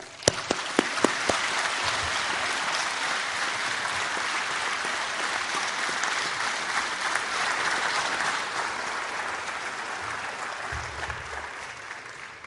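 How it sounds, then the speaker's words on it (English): A graduation ceremony audience at Bond University gives a sustained, dense round of applause, loud and even throughout, with a few sharp individual claps standing out near the start. "So I'd just like to ask you all to join me in a round of applause for all the staff and all the students"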